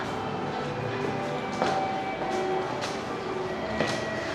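A subway train rumbles through a station in Kyoto, Japan, giving a steady, loud mechanical roar with faint squeals and metallic tones drifting over it and a few brief clanks, and no one speaks.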